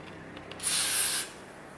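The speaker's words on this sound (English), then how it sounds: "I'm gonna put a little bit more hairspray on." Hairspray misted onto wig lace, a single close, bright aerosol hiss lasting about half a second.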